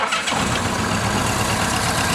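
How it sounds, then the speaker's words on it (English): A motorcycle engine started with the handlebar switch catches after a brief starter whir and settles straight into a loud, steady, close-up idle with a low throbbing rumble. "we're ready to start the bike with the switch on the right-hand side of the handlebar"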